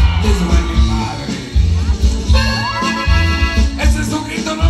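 A live crowd at a rock show at a town fair yells and whoops in loud, rough bursts, with cheers rising and falling over music in the background.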